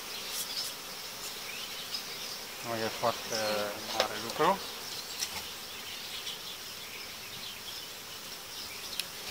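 Honeybees buzz steadily around a hive frame of capped brood during queen-rearing work, a continuous nearby hum running throughout while someone speaks briefly in the middle.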